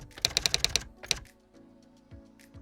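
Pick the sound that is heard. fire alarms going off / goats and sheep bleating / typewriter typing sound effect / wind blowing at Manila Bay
typewriter typing sound effect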